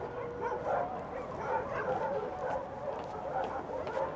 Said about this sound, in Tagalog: Maingay yung mga aso mga ka-journey.